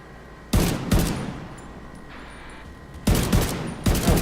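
A minigun fires in Tom Clancy's The Division 2 in two sharp, loud bursts of rapid gunfire separated by a quieter stretch of game ambience.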